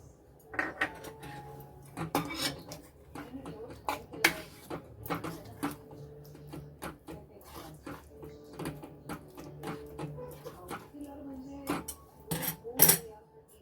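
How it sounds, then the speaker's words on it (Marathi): A thickening orange jelly mixture stirred in a pan, with repeated clinks and scrapes of a spoon against the metal in an irregular rhythm, close by and moderately loud, with occasional faint background noise. "आता हे सतत आपण हलवत राहायचंय."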